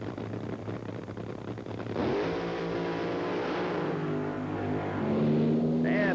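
Drag racers launch down the strip in a 1984 IHRA Northern Nationals quarterfinal, a loud engine roar rising sharply and holding, with a whining pitch sweeping upward near the end, heard from a distance without talk.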